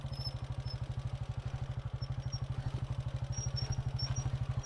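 A Hartford Mini 125 motorcycle engine chugs at a steady idle-like pulse, close and loud, with faint knocks and clatter over the rumble as it hits rocks in a creek bed.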